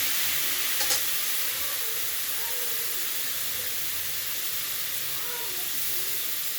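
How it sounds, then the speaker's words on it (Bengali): Spices hit hot oil in a frying pan, giving a steady, fairly loud sizzling hiss that holds unchanged throughout, with no one speaking. "এই যে একটু ভাজা ভাজা হয়ে গেছে, এবার আমি মশলাটা ছেড়ে দিচ্ছি।"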